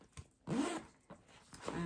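Zipper on a long zip pocket across the back of a Kerikit Lennox bag, a few short quiet zipping strokes with brief pauses between them, heard up close.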